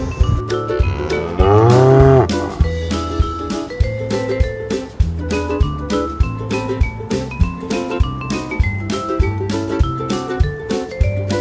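A cow gives one long, drawn-out moo near the start. Upbeat music with a steady bouncing rhythm plays all the way through.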